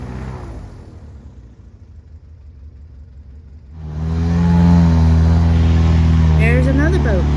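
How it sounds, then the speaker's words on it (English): An airboat powered by an old four-cylinder Lycoming engine turning a 70-inch prop on Lake Kissimmee, quieter at first, then roaring up loud and steady with a deep droning hum as it passes close; a voice talks over it. "old 4-cylinder Lycoming kicking it, pushing that 70-inch Q, no problems at all."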